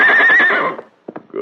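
Silver, the great silver-coated horse, lets out a loud, close whinny that wavers for about half a second, then fades out, followed by a few short snorts or hoof-like knocks.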